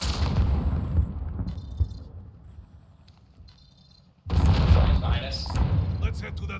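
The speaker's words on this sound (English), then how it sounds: "I'm throwing grenade." A grenade explodes in the video game Call of Duty Warzone: a sudden loud, deep boom after a quieter stretch, with dense rumbling game noise continuing afterward.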